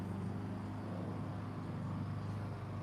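A new car's engine idles steadily at close range, a constant low rumble with no breaks or changes in pitch and no voices over it.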